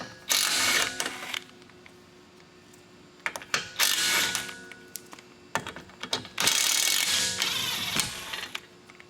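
Ratchet wrench backing out three 17mm fasteners on the control arm of a 2004–2009 Lexus RX350 during CV axle replacement, giving loud bursts of rapid clicking separated by short pauses, close up with no talk.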